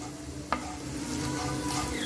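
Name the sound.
asafoetida frying in oil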